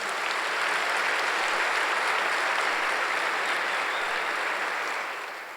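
A church congregation applauds for Jesus during a Sunday service: a dense, steady roar of many hands clapping together, loud and sustained for several seconds before tapering slightly at the end, with no voices standing out.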